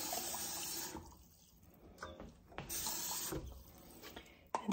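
Tap water pours into a jar of bacon grease, a steady hissing stream that eases off, then surges again in bursts, ending with a small knock close by.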